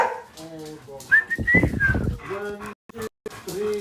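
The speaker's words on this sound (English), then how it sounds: "Stop barking." Dogs barking indoors in a busy house, including a big Rottweiler, with a few sharp barks and a drawn-out whine or howl mixed in, partly under a person talking.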